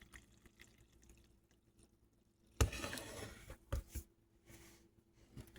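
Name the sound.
water being poured into flour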